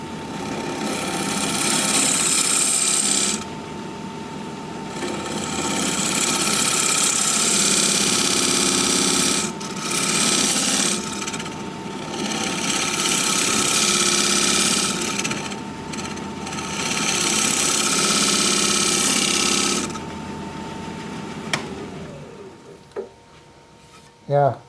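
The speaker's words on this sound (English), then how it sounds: "I'm going to use my dovetail tool anyway" A wood lathe spins a cracked piece of wood while a dovetail tool scrapes it in long, loud, rough passes, with brief pauses between cuts and a steady motor hum underneath.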